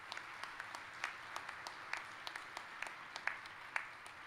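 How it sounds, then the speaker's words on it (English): Sparse, faint clapping from a graduation audience at a spring commencement ceremony, with a handful of distinct claps popping out irregularly over a quiet, distant hall. "Let's give them all a round of applause."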